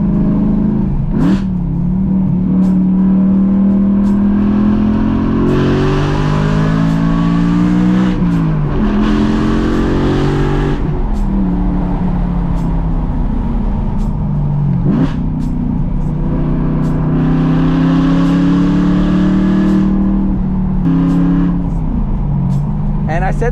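A BMW E92 M3 with muffler and resonator deletes and test pipes drives hard, its engine roaring loud and close as it revs up through gears and drops between shifts, with crackles on lift-off. A voice talks faintly under the engine.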